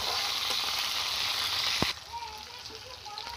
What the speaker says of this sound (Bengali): তেল আর ফোড়নে দেবো কালো জিরে, চেরা কাঁচা লঙ্কা, পেঁয়াজ কুচো, টমেটো কুচো সব একসাথে আমি ভালো করে ভেজে নেব।